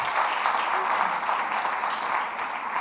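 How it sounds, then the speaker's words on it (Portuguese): Church congregation applauding during a Sunday celebration service, a steady dense wash of clapping filling the hall, close and sustained with no voices over it. "Queria que a igreja desse um aplauso a Jesus pela vida da Vanessa."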